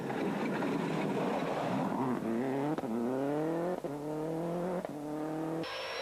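WRC rally car on a stage at the 2004 Tipperary Stonethrowers Rally, driven by Kevin Barrett with diff-locking transmission trouble; the engine revs up repeatedly through short gear pulls, rising and dropping with gear changes, loud and close throughout.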